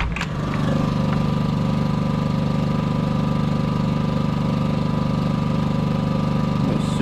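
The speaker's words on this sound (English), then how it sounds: "Super quiet generator." A Predator 5000 generator engine runs steadily under load, powering an air conditioner at about 15 amps, with a constant close, even drone throughout.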